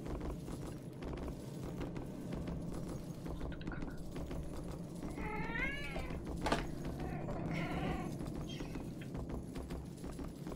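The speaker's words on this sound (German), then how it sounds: "Katze." A cat in the video game Murdered: Soul Suspect meows twice, faint and drawn out, over a constant noisy background with no speech.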